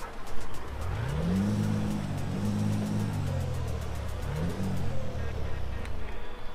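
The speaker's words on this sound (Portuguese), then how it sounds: "Olha o ronco desse caminhão, velho." Engine of a DAF XF 8x4 truck in Euro Truck Simulator 2, a deep rumbling drone that rises and falls as it revs, steady and close throughout.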